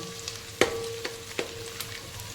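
Garlic frying in oil for chivda gives a soft, steady sizzle with a few light metallic taps of stirring, close and quiet, with no voices.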